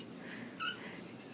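A puppy gives a single faint, high whimpering yip over a quiet background, brief and close, with no talk.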